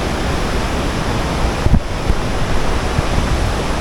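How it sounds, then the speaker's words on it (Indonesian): A strong, fast river current rushes in a dense, loud, unbroken roar of water close by, with wind buffeting the microphone and no voices. "Arusnya deras banget."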